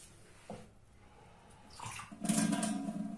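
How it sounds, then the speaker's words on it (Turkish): A small amount of water poured into a drinking glass, quiet at first and then building into a brief, close splash and trickle near the end. "bardağımızın hemen az bir su eklemek istiyorum"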